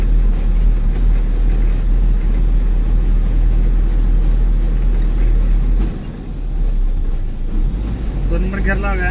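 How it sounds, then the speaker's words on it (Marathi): Eicher truck engine labouring in second gear up a steep ghat road on the way toward Mahad and Khed, a loud, steady low drone with a brief dip in intensity partway through. "दोन नंबर गिअर लावूया कारण चढ एकदम जरा कडा चढ आहे."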